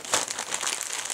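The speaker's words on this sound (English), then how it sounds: "I create a larger plastic bag for the engine mount" A plastic bag crinkles and rustles continuously as small airplane-kit parts, an engine mount and screws, are dropped in and packed; close, busy crackling with a sharper burst near the start.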